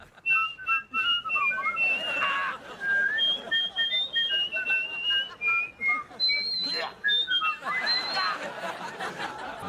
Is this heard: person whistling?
yes